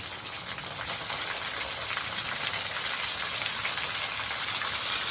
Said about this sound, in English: there's the pond frozen over, but the waterfall still working good